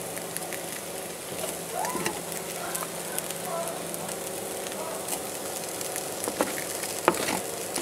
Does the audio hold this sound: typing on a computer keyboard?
no